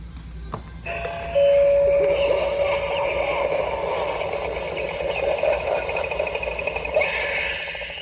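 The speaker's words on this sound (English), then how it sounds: "There's some animated doorbells here, which are kind of neat" An animated Halloween doorbell decoration rings out with a sustained electronic chime tone, followed by a spooky, warbling jingle playing on, with a brief click at the start.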